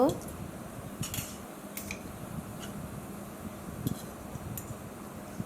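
Fried chops being lifted out of a pan in a home kitchen, with a few light scraping and clinking touches of a utensil against metal over a steady low hiss of frying, close and fairly quiet.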